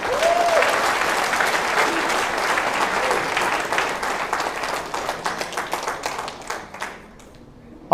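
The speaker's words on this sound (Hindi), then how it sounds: "तो जोरदार तालियां बजा लीजिए।" Audience applause from a large crowd at a Hindi career-advice seminar, steady dense clapping that fills most of the clip, thinning into scattered individual claps near the end before falling quiet.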